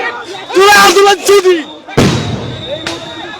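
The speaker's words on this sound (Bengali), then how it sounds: "আপনারা দেখতে পাচ্ছেন পুলিশ মোহর মোহর সাউন্ড করছে" At a street protest by diploma engineering students, police fire a sound grenade: loud shouting voices give way to one sharp, heavy blast that rings and decays, then a smaller bang follows over crowd noise.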